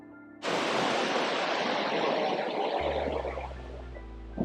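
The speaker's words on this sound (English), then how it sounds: "Here you're greeted by one of the world's tallest indoor waterfalls, and the view is breathtaking." Steady roaring rush of falling water from a tall indoor waterfall in the Cloud Forest conservatory at Gardens by the Bay, Singapore, a broad continuous wash that starts abruptly and stays loud, with a low hum entering near the end.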